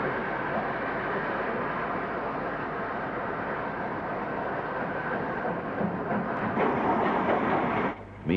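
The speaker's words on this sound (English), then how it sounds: "Stanier 2-cylinder 264 tank number 42611 arrives at the station" Stanier two-cylinder 2-6-4 steam tank locomotive 42611 rolls into a station, a steady loud rumble and rail noise that holds throughout, with a brief shift and clank near the end.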